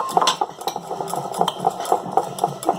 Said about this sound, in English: And then we mix it up good